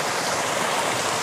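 Water is poured to wash mud off freshly caught crabs in a village setting. A continuous, close splashing rush of water runs steadily throughout, with no talk.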